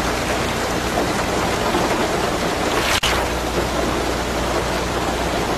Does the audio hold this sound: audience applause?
no